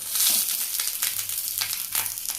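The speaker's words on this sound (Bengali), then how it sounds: "তাওয়াতে অল্প একটুখানি তেল দিয়ে ঘুরিয়েছি। এবার মাছগুলো বসিয়ে দেবো।" Fish wrapped in banana leaf frying in a little oil on a tawa over a gas flame, a steady bright sizzle with soft crackles and occasional stirring or shifting sounds.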